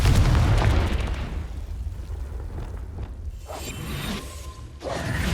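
A Confringo fire spell bursts in Hogwarts Legacy, a loud explosive blast with a rushing, rumbling tail that fades and then swells with a second whooshing burst.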